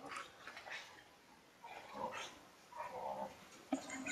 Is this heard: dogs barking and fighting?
yes